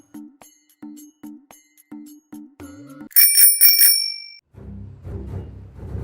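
A bicycle bell rings brightly four times in quick succession and lingers, after a run of low electronic beeps and before a low rumble.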